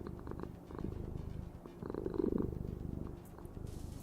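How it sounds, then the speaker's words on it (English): A cat purring sound effect triggered by voice-control software during a game session, a steady low rumbling purr running throughout with a slight swell in the middle. "my voice attack decided to play the cat sound effects."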